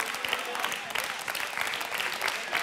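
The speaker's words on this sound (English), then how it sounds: "Oh, yeah, that's that little golf clap." A church congregation gives a small, polite golf clap during a sermon: light, scattered hand claps from many people, soft and steady for a few seconds with no one speaking.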